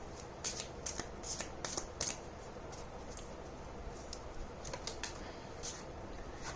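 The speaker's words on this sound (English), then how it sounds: "I'm going to take out 5 cards from here" Tarot cards are shuffled and drawn by hand in a quiet room, giving a run of soft papery riffles and flicks, busiest in the first couple of seconds and then thinning to scattered slides and snaps.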